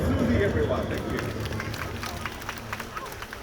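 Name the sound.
audience applause at a bird of prey show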